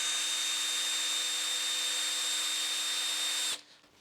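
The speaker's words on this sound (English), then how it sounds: "That is a blunt drill bit. See how this one goes." A power drill whines at a steady high pitch for several seconds, grinding with a blunt drill bit, then stops abruptly.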